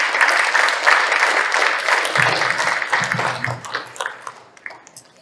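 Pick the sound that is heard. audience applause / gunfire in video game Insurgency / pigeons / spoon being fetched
audience applause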